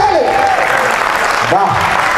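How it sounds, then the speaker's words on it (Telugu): An audience at a live comedy skit show in Visakhapatnam claps loudly and steadily, with men cheering and whooping over the dense applause. "ఒక్కసారి మన మగవాళ్ళు క్లాప్స్ కొట్టాలండి"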